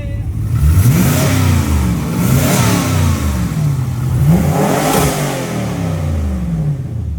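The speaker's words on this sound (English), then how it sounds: "Can we get a little rev blast from it?" Tuned performance car engine revving, several loud rising and falling rev blasts close by, each climbing sharply then dropping back before the next, with no talk over it.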